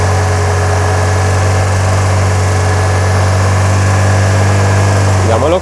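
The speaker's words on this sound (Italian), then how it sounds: "adesso acceleriamo e andiamo a 2500 RPM" A car engine held at 2500 RPM during a battery test hums at a steady, raised speed with a constant low drone and slight vibration, held evenly throughout.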